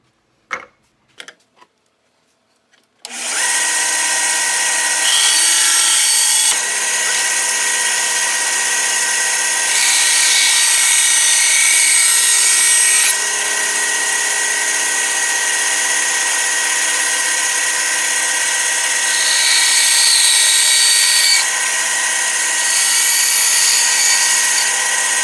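A power tool runs continuously at close range while it cuts an FPS Holsters Kanik Elite Combat holster for an extended barrel, giving a loud, steady high-pitched whine with surges in intensity after a few quiet clicks.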